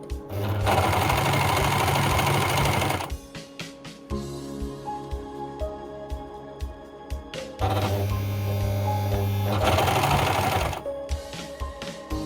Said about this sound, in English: Start to overlock on the long side.